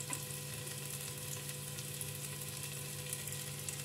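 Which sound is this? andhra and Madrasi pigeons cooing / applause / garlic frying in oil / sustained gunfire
garlic frying in oil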